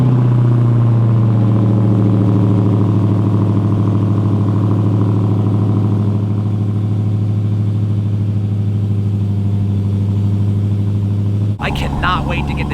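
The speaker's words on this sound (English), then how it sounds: "of course it wouldn't be a complete video if I didn't do a cold start of the Green Beast, aka the Redeye" Dodge Challenger Hellcat Redeye V8 on a cold start, settling into a loud, steady low idle rumble held close for most of the clip, then cut off near the end as a voice begins.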